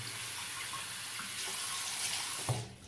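Hot water runs steadily from a bathroom tap after a shower, a close, continuous hiss and splash that ends with a brief knock as the flow is cut off.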